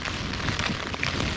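Heavy rain and wind lash a tent during a storm in the Lake District, a dense, steady roar of drops drumming on the fabric from close by with no speech.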